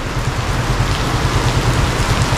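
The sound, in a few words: heavy rain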